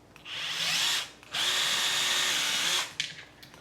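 A power drill bores into a metal frame in two loud, steady bursts of whirring, the second one longer, with a short pause between and some handling clatter at the end.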